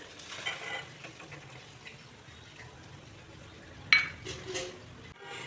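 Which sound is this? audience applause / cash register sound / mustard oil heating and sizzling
mustard oil heating and sizzling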